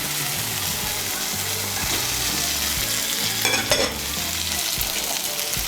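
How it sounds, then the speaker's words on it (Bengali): Fried potatoes are stirred into spice masala in a hot pan, a loud continuous sizzle under repeated scraping strokes of a spatula, with a brief clatter near the end and no talking. "আলুগুলোকে মিশিয়ে নেব মশলার সঙ্গে। মিশিয়ে নিয়ে আলুগুলোকে আরেকটু কষিয়ে নেব মশলার সঙ্গে।"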